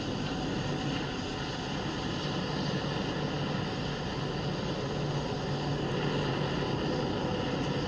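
Falcon 9 rocket engines roar during the Crew 5 launch ascent, a distant, continuous low broadband rumble that stays steady and fairly faint throughout with no speech over it.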